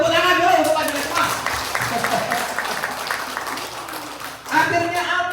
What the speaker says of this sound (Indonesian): Tepuk tangan dulu untuk panjenengan semua.